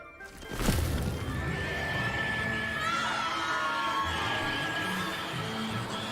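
Mandrakes in a video game let out shrill, wavering screams as they are pulled up by their tendrils, a loud continuous shrieking chorus after a sharp onset, with a crowd-like wash of cries underneath.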